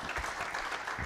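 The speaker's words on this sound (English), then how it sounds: "Can we have a big round of applause?" Audience clapping at a sports carnival in Coimbatore, a steady patter of applause from a crowd, fairly faint and distant, with no voices over it.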